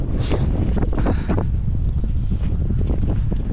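Strong wind gusting across a hillside above the Welsh valleys, loud buffeting rumble battering the microphone in surges throughout.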